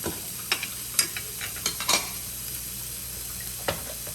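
Egg mixture being stirred and mixed in a pan for a quick kids' egg recipe, with faint frying sizzle underneath and several sharp clinks and scrapes of a utensil against the pan, no talking.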